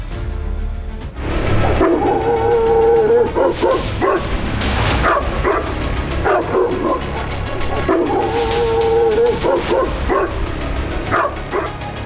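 A pack of stray dogs barks and yips repeatedly on a street in Ghaziabad while chasing a red scooter, loud and close over constant noisy traffic background.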